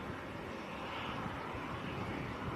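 Lufthansa City A320neo jet touching down at Manchester airport, a distant steady broadband engine roar, fairly faint and continuous with no voices.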